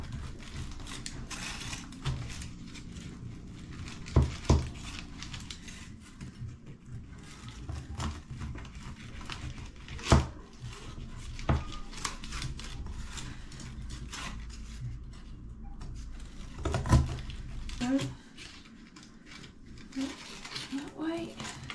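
A knife cuts through homemade breakfast bars in a pan, giving sporadic sharp knocks and scrapes against the tray between quieter pauses, with a person speaking now and then.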